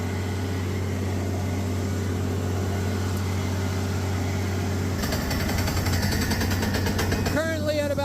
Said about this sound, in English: We're drilling through some sandy formation.